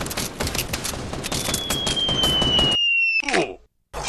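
Rapid automatic gunfire in Fortnite: a dense burst of shots followed by a rising whistle, then an abrupt cutoff, a brief distorted crackle and silence.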